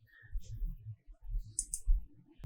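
Soft computer clicks and a few light keyboard taps come through faintly and close by during data entry on a web portal, set against low background rumble.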